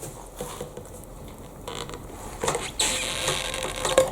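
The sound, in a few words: Sandrin TCK tungsten carbide knife cutting vinyl piping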